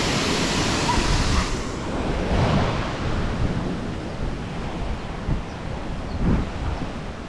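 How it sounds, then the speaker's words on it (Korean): A powerful waterfall swollen by heavy seasonal rain roars steadily and close, a dense unbroken rush of falling water with no voices over it. "폭포물이 아주 힘이 있습니다"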